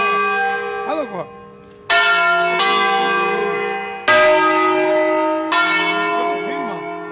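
Church bells rung by hand by bell ringers at a solemn Christmas concert in a parish church near Brescia, Italy. Several loud, close strikes come at uneven intervals, each leaving a long shimmering ring, with faint voices in the background.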